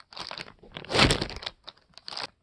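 A double-wrapped plastic zipper bag is opened at close range: a few quick crinkles and crunches build to one louder rustling burst midway, then trail off into sparse, soft crackles.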